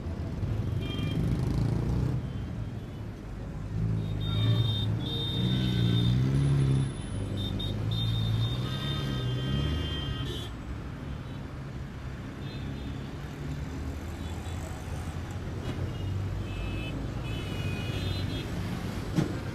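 A vehicle drives past on a road, its engine rumble rising and falling as a steady, moderately close drone with some tonal whine that fades gradually.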